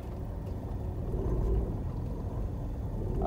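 A car creeping backward down a slope under clutch control, giving a steady low rumble of engine and road noise that continues without a break and stays fairly close.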